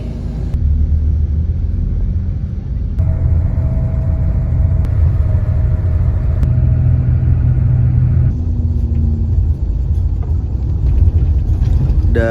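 A steady low engine rumble and road drone fill the cabin of a moving bus travelling toward Wonosobo, with shifts in intensity as it drives, loud and continuous with no talk.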